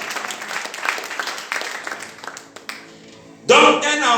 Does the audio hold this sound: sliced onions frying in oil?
no